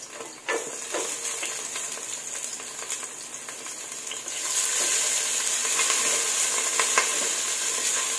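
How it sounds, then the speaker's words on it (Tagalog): Chopped garlic sizzles in hot oil in a cooking pot while pork nilaga with jackfruit is prepared. A steady close frying hiss grows louder partway through, with a few soft stirring clatters and no talking. "Lagay na po natin ang ating bawang."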